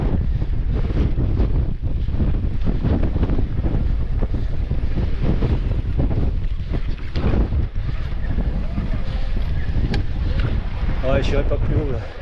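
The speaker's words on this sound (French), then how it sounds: "Là j'ai le vent qui me pousse." Strong wind buffeting the microphone on an electric-assist mountain bike ride up a hillside circuit near Sunbilla, a continuous loud roaring rumble throughout with no speech.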